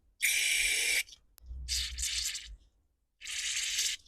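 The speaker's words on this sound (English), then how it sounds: "I'm also going to spray a couple of these passages." Three separate bursts of carburetor cleaner spray hissing close by into the passages of a Honda mower carburetor, each lasting under a second, with a low rumble under the middle burst.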